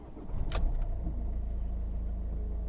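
A 2010 Volvo V50 1.6 diesel engine cranks and catches with a short burst, then settles into a low, steady idle rumble close by.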